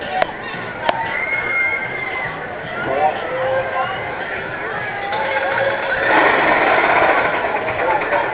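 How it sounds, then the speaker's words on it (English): A continuous mechanical rattling clank of a roller coaster lift hill at Cedar Point runs steadily beneath crowd noise and talk, swelling louder toward the end. "Well, that's a loud lift."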